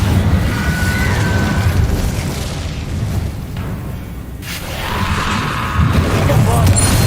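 Incendio fire spell cast in the Hogwarts Legacy video game, a loud whooshing, roaring burst of flame with booming rumbles, dipping briefly midway before swelling again.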